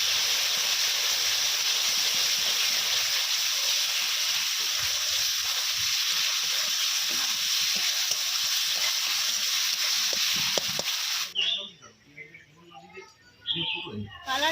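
A loud, continuous sizzle of onion-tomato paste frying with ginger-garlic paste in a pan for an egg curry. It drops away near the end as stirring and clinks take over.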